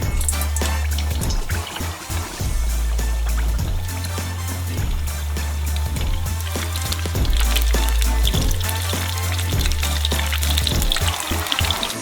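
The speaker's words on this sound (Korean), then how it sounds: "예열되면 미니 피자를 투하해서 튀겨주세요." Mini calzone pizzas deep-frying in a pot of hot oil on a stove make a loud, continuous crackling and sizzling, with a recurring low rumble beneath, heard up close and without speech.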